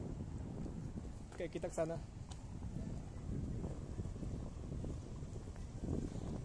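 Wind blowing outdoors at PIK in Jakarta, a steady low rumble buffeting the microphone through the whole stretch, with a person talking briefly over it.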